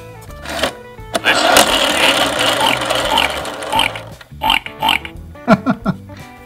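A Fisher-Price See 'n Say The Farmer Says toy gives a long, buzzy electronic pig oink, then a few shorter squeals and grunts follow in quick bursts, loud and close.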